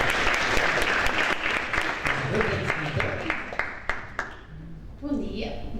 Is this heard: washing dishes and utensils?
no